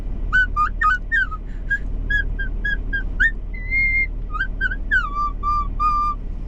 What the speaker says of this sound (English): I'm obsessed with this little whistle